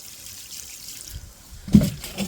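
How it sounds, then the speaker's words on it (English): Water trickles and splashes onto catnip plants outdoors, a faint dribble that swells into a brief louder pour near the end. "that's our catnip watered for day 3"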